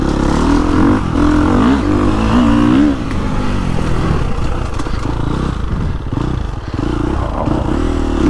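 A 2022 Gas Gas MC350 dirt bike ridden through a tight woods loop in second gear with the clutch slipped, a loud close engine revving up and down with clattering and scraping from the trail.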